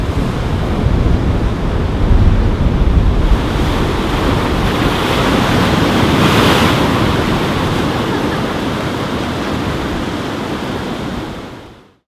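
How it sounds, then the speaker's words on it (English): Ocean waves crash against the shore on the windward side of a Polynesian island, a loud continuous roar of surf with wind buffeting the microphone, fading out at the end. "there were some pretty impressive waves crashing against the shore."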